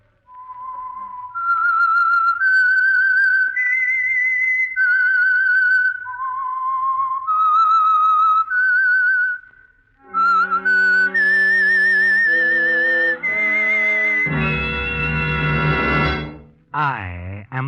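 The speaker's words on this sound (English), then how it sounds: "That whistle is your signal for the Signal Oil Program" A melodic whistled tune, clear and loud, gliding between notes, followed by a swelling orchestral passage and a brief low brassy tone.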